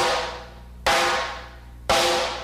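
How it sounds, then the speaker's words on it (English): Three sharp, ringing rim shots, the drumstick striking the rim about three inches from its butt end, each a bright high-pitched crack that rings out and fades before the next, evenly spaced and close. "that's hitting 3 inches off the butt end of the stick and hitting the rim"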